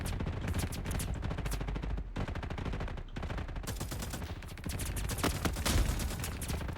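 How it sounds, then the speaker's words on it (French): Rapid, dense gunfire from a weapon in a Roblox war game, with heavy recoil, rattling in long sustained bursts with two brief pauses, loud and close throughout with no talk. "Et aussi cette arme, quand vous tirez, il y a beaucoup de recul."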